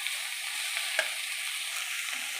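Cabbage sizzling and frying in a home kitchen pan, a steady hiss with one brief stirring knock partway through, close and even with no talk.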